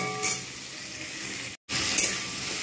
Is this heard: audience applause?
no